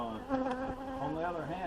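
A swarming honeybee colony from a queen with swarmy genetics, heard as a steady, dense insect drone with layered buzzing tones, moderately close and continuous throughout.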